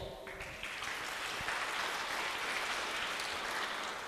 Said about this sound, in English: Okay, a big applause.